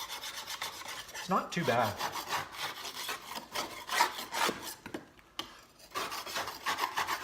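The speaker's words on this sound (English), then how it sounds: "I'll just give this a scraping, cleaning." Close, rhythmic scraping strokes rasp across a plastic lawn mower deck as it is cleaned, steady and gritty throughout, with a brief spoken remark in the middle.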